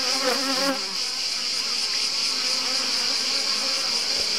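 Honey bees buzz in a dense, close, steady drone with a few louder individual wingbeats standing out early on, alone without any voices.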